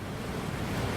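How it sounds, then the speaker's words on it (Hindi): Floodwater pours over an overflowing dam in Navsari, Gujarat, India, during heavy monsoon rain, a steady, dense roar of rushing water with no voices. "देखिए किस तरह से डैम ओवरफ्लो हो गया है।"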